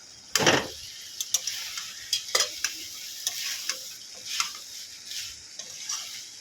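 A spoon stirs pasta with spices in a pan, scraping and clacking against the metal in irregular close strokes over a steady soft sizzle from the hot pan, with no talking.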